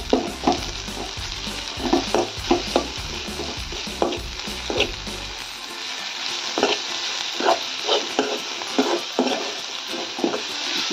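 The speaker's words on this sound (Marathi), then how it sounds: "परत एकदा परतून घ्यायची" Salted ranbhaji, a traditional wild-leaf vegetable dish from Kolhar, is stirred and sautéed in a pan: a constant close sizzle with rhythmic scraping and tapping of the spoon against the metal, about one stroke per second.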